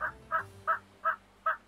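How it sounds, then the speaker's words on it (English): Turkeys gobble in the farming settlement game Settlement Survival, with five short, evenly spaced bursts of gobbling at about one every third of a second. The calls stand out clearly over quiet, faint background ambience. "we're starting to slaughter turkeys"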